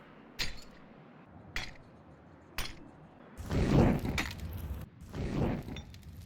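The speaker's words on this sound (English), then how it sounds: "Flashbangs and decoys actually make the same sound when they bounce against surfaces." A CS2 flashbang or decoy grenade bounces off hard surfaces, giving three sharp, separate metallic clinks spaced about a second apart, then two longer rattling clatters as it skitters and settles.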